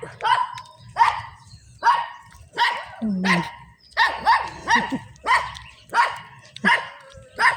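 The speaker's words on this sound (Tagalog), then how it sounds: "Aso ni Vilma yan dito na naman." A dog barks repeatedly and steadily, close by and loud, about ten sharp barks in a regular rhythm with a brief whine partway through.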